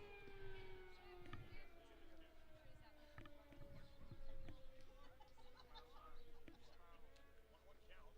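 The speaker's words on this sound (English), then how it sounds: "the siren sounds off here in Larchwood" A long, steady noon siren in Larchwood wails in the distance, holding a drawn-out tone beneath nearby crowd chatter and scattered thumps.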